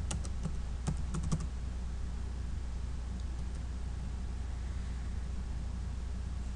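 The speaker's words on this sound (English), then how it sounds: "you're going to want to type this in" Quick bursts of faint key clicks on a computer keyboard come early, then fade into a low steady background hum with no talk.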